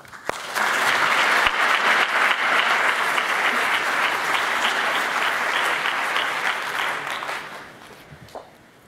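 Symposium audience breaking into sustained applause to welcome a speaker, a dense wash of clapping that swells quickly, holds for several seconds and tapers off.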